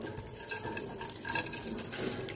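A utensil scrapes and stirs steadily in a pan of spices, cashews and raisins, with faint sizzling underneath and no voices.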